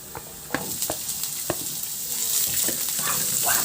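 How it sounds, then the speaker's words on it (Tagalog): Garlic, then onion, sautéing in hot oil in a kawali, a steady close sizzle with scraping stirs and clinks of a utensil against the pan, growing denser toward the end. "Magpainit na rin ako ng mantika sa kawali at igisa ko yung bawang."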